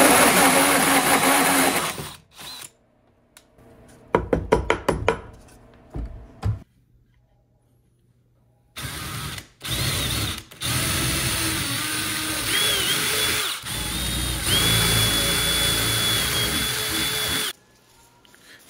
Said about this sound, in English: For this, I just use a 3-inch hole saw and use the appropriate drill bit for my binding